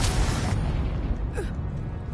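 A Confringo spell blast in Hogwarts Legacy, a loud booming burst right at the start that decays into a rumbling tail, followed by quieter magical whooshes.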